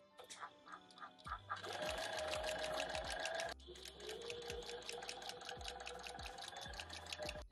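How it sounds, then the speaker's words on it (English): A sewing machine stitches the shoulder seam of a long cardigan made from a thrifted blanket, running in two sustained bursts with a brief stop between them, its rapid needle rhythm steady and close. "So I'm gonna turn the needle and go right into my shoulder seam on this side."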